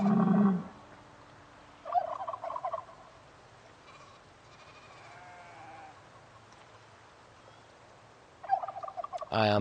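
Turkeys in the survival game Project Zomboid let out a few separate gobbling bursts, spaced apart by quiet stretches, fairly close and loud with no talk.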